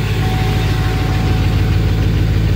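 A straight-piped LBZ Duramax diesel truck idles after a cold start at minus ten degrees, a loud, steady low rumble with a clear pulsing diesel clatter, close by and alone.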